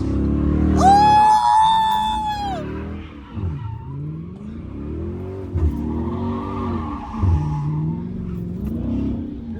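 A Dodge Hellcat Jailbreak sliding, starting with a loud, high-pitched tire squeal that lasts a couple of seconds, followed by wavering engine revs and rising and falling motor noise at close range.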